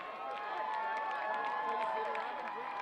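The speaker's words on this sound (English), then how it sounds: "Crowd for Regina right now going berserk." A crowd at a high school powderpuff football game cheers and yells in a steady, dense roar, with scattered shouts and claps in the din.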